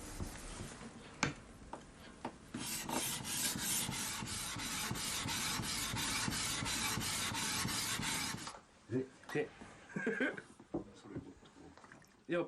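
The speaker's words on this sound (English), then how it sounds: "it's time for the final stage of the foundation polishing" A Japanese sword blade gets foundation polishing on a stone, heard as rhythmic back-and-forth rasping strokes that run steadily, close and loud, then give way to quieter scattered scrapes and handling sounds.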